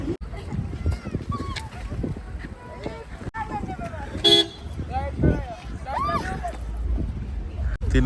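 Car horns toot repeatedly in a stalled traffic jam on a snowy mountain road, short honks scattered near and far among idling vehicles while a person talks throughout.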